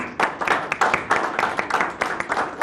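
Audience applause at an awards ceremony, a dense, steady burst of many hands clapping close by for the full length, with no voices over it.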